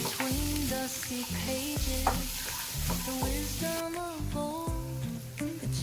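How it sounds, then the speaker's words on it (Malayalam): Onions sautéing in a pan for beef mappas, a steady loud sizzle with repeated scraping stirs of a spoon against the pan at an uneven pace, close up. "സവോള, നല്ലപോലെ വഴറ്റിയെടുക്കും."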